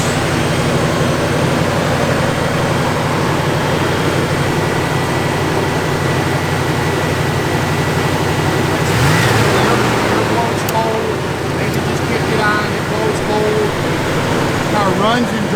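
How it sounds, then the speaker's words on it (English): A 1977 Chevrolet Camaro Z29 engine runs at a steady idle, a continuous low rumble with a droning hum, heard up close while someone talks over it intermittently. "Car runs and drives just as sweet as can be."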